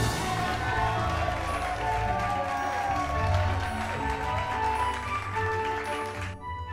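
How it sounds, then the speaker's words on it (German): A studio audience at a Christmas episode of a German talk show claps and cheers steadily for several seconds, a dense wash of applause that fades out at the end. "umso mehr gilt unser ganzer Jubel dem Ketzer-Großmeister Matthias"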